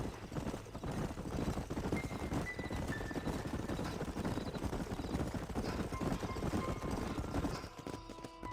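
Horses from the video game Red Dead Redemption walk along with a dense, steady clip-clop of hooves, close and fairly loud, with light whistling wind tones drifting over the top.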